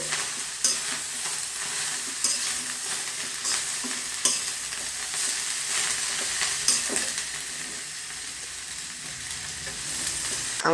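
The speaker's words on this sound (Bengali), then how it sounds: "এবার আমরা কিছুটা নেড়ে দেব।" Boiled bhattar greens are stirred in a pot, with repeated scraping strokes and a steady soft sizzle running underneath, close and moderately loud, no voices.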